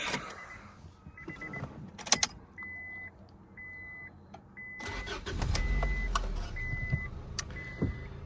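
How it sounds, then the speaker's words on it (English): A 1998 Honda Accord with over 231,000 miles is started from inside the cabin: door and key clatter, a few short whirring motor sounds, then the engine catches and settles into a steady nearby idle. "I'll go ahead and hop inside real quick, and I'll go ahead and start the car up."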